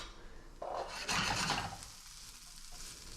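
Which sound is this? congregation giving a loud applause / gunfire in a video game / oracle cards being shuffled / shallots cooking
shallots cooking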